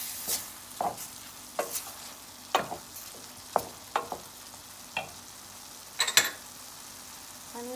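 Freshly grated ginger and garlic sizzle quietly in a pan while a utensil stirs and scrapes in repeated, sharp strokes at an irregular pace, with no talk.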